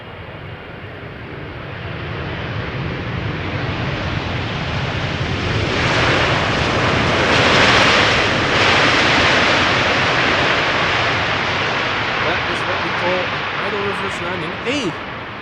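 A jet airliner arriving over the Polderbaan runway at Schiphol, a broad roaring rumble that swells to a loud peak midway as it passes close, then slowly fades, with wind noise throughout.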